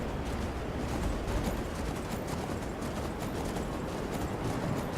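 Rapid, steady clip-clop of a horse's hooves while riding in modded Skyrim, close and continuous across a dense, noisy backdrop.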